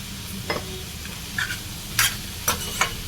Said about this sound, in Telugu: అప్పుడు దొండకాయ ముక్కలకి సరిపడే సాల్ట్ వేసుకొని వేయించుకోవాలి